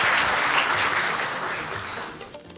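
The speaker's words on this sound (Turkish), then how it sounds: "Rektörü Profesör Doktor Sayın Necdet Ünivar'ı alkışlarla kürsüye davet ediyorum" Audience applause at a March 14 Medicine Day ceremony at Ankara's medical faculty as the university rector is invited to the podium: a full crowd clapping steadily, then gradually thinning and fading out.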